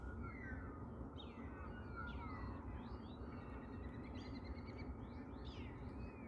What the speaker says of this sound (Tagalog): Ang dami mong maririnig na huni. Yan, mga ibon.